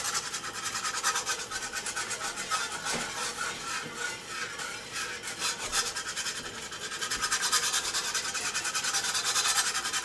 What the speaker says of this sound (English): we're just going to go ahead and whisk that in.